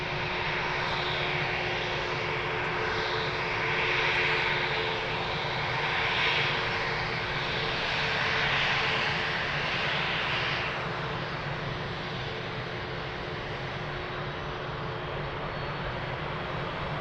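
A fixed-wing airplane's engines roar steadily at Lisbon Airport, a broad sustained rumble that swells and eases slightly before settling into a lower, constant drone.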